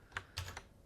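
A handful of quick keystrokes clatter on a computer keyboard, close and crisp, in a short irregular burst with no talking.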